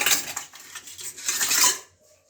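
Jeera rice being served onto a plate from a pot, with several scraping clinks of a metal spoon against the cookware over about two seconds, close and fairly loud, then quiet.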